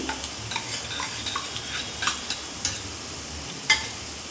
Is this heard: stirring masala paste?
yes